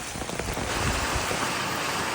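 Heavy rain in a village, a dense, loud, continuous hiss of rainfall pouring down without let-up and no voices.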